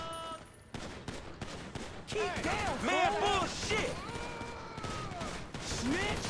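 Rapid AK rifle bursts from Grand Theft Auto 5 crackle in dense repeated volleys, loud and close, mixed with chaotic game effects and whooshing tones.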